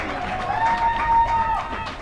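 A cricket crowd at a Masters championship final in Sri Lanka cheers and applauds, a steady, broad roar of voices and clapping with a whistle-like tone riding over it, continuous throughout the short stretch.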